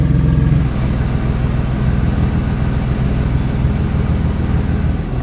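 A Porsche 992 GT3 fitted with an aftermarket exhaust idles cold, producing a steady, deep, low rumble that stays loud and close throughout with no voices.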